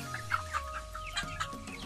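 Broiler chickens about 45 days old clucking on a chicken farm, several birds making short repeated clucks and murmurs over a low steady hum, close and fairly quiet.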